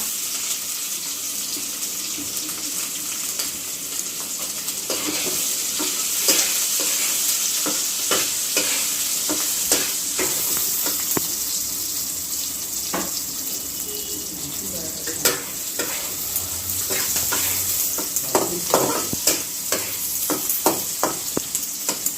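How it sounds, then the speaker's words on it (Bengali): Paneer with green chilli and onion sizzles in a frying pan while a spoon stirs it, with scraping clicks that grow more frequent over a constant frying hiss and a brief sound of running water. "পনিরটা সামান্য নেড়ে নেব। নেড়ে নেওয়ার পরে দেবো একটা কাঁচা লঙ্কা আর দিয়ে দেবো এই পেঁয়াজটা।"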